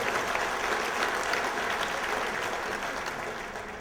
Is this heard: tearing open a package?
no